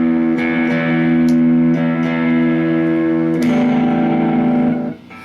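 Fender Telecaster electric guitar with humbucker pickup, sounding as a sustained chord with one tone, then a brighter, changed tone after a fresh strum, with effects and reverb, loud and alone, cut off at the end.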